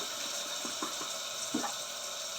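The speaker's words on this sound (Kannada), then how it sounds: "ಆ ಬೇಳೆ ಇರೋ ನೀರನ್ನು ಹಾಕೋಣ." Lentil cooking water is poured into a Mangalore-style cucumber sambar, giving a soft, low splashing and trickling that runs steadily for a couple of seconds with a few gurgling pulses, fairly quiet and with no talk.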